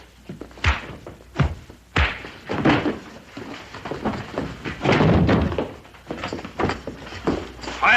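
Two brothers trade blows in a fistfight, a series of sharp thumps and thuds at irregular intervals amid scuffling and grunting, close and fairly loud.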